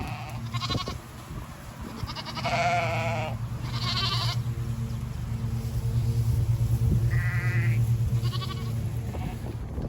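St Croix sheep bleat repeatedly while being moved to new pasture, several loud, wavering calls spaced a few seconds apart over a constant low engine rumble outdoors.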